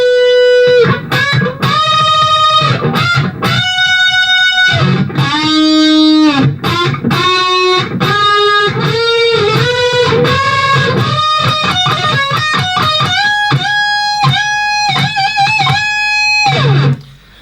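Distorted electric guitar solo from the studio version of a song, a loud, continuous run of bent and sustained notes with quick picked phrases, ending on a low held note.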